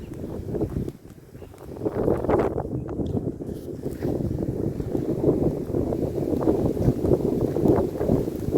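Wind gusts across an open soybean field, buffeting the microphone with a heavy low rumble that dips briefly, then builds into continuous roaring blasts.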